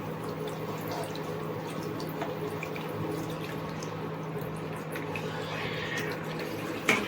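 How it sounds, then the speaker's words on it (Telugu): Tamarind water poured into a simmering fish curry (chepala pulusu) in a home kitchen, a continuous liquid rush and trickle that stays even throughout, with no talking. "ఇప్పుడు ముందుగా పిసికి పెట్టుకున్న చింతపండు పులుసు మన చేపల పులుసులో వెయ్యాలి"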